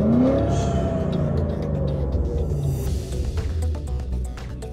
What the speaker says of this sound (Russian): поддадим газу.